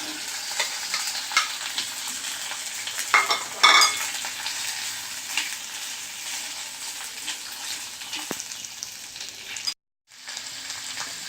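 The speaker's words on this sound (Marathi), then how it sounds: "आलं मिरची चिरलेले बटाटे टाकून घ्या" Chopped potatoes frying with cumin, ginger and green chilli for a festival fasting dish. A steady close sizzle carries through, and stirring scrapes come through clearly near the middle. The sound drops out briefly near the end.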